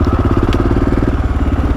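A Honda XR650L motorcycle engine idles nearby in a steady, rapid thumping rhythm, with no voices over it.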